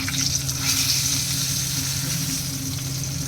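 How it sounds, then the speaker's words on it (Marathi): Masala prawns sizzle and fry steadily in hot oil over a medium gas flame, a close, continuous crackle that holds an even level throughout. "अलगद हलक्या हाताने"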